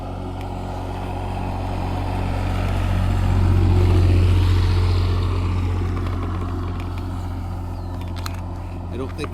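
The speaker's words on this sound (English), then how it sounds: "Here comes the first vehicle of the day." A vehicle passes on a road beside a dry lake, its engine rumble swelling to a peak midway and fading away, steady and moderately loud, with no talk.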